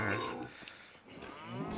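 Cows mooing in a farm video game, a few low drawn-out lowing calls at moderate distance, the first at the start and another rising near the end, with no talk.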